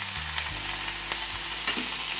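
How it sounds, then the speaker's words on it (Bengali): Onion paste, green chili paste and ginger paste sizzle steadily in hot oil while being stirred, giving a dense, continuous frying hiss with a few sharper spits and a low hum underneath. "দিয়ে এবার নাড়াচাড়া হবে, ভাজতে হবে। এইভাবে নাড়িয়ে চাড়িয়ে ভাজতে হবে।"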